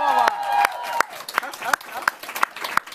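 Studio audience claps and cheers for a pop band during a live broadcast, with a rising tone and voices at the start giving way to scattered, sharp individual claps.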